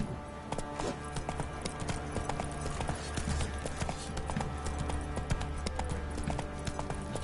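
Hooves of the horse Roach clip-clopping at a steady galloping rhythm in the Witcher 3 video game, moderately loud and continuous with no talk.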